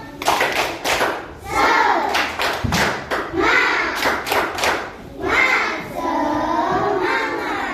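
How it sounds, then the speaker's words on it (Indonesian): A class of children doing rhythmic spirit clapping in a classroom, steady patterned claps and thumps with children's voices chanting along, fairly loud. "Oke, tepuk semangat."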